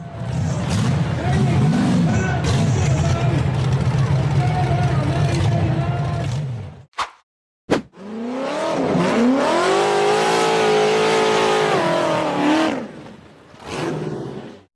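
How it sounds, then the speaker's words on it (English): Blue tube-frame off-road buggy revving hard up a slippery muddy dirt hill, with a loud roaring engine that rises and falls, a brief break, then another surging rev, and crowd noise underneath. "The blue tube frame buggy accelerated aggressively, spraying mud and dirt while producing thick smoke as it attempted to conquer the slippery dirt hill"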